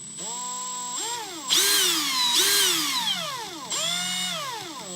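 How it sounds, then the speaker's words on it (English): A cordless drill whirs at rising and falling speeds in several bursts, its high whine sweeping up and down with short pauses between pulls of the trigger. "And then a brushless drill."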